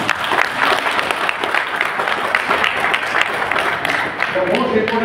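An audience claps steadily for about five seconds at a pregnancy health talk, with dense continuous applause and a bit of crowd noise underneath.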